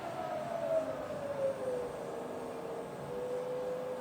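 Rebuilt Bridgeport milling machine spindle running at 1000 RPM, a quiet steady hum with a faint whine that drifts slightly in pitch, continuous and unbroken.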